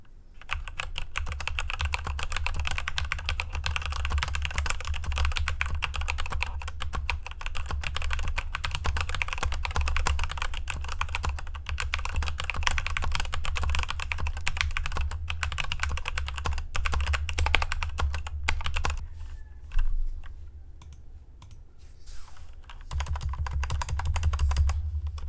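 Steady, fast typing on a Royal Kludge RK918 RGB mechanical keyboard, its switches clacking continuously up close, with a brief pause near the end before the typing resumes.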